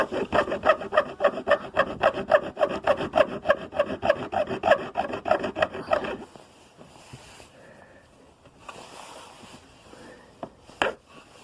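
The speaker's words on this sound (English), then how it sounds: "I'm filing out the little notch for the tab on the gauge." A file cuts a small notch for the tab on an ATV water temperature gauge in a fast, even series of close rasping strokes for about six seconds, followed by a few quieter scrapes and handling clicks.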